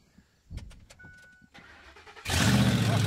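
A Honda Civic engine with tire foam in place of engine oil cranks with a few clicks and sputters, then catches and roars into a loud, steady running close by.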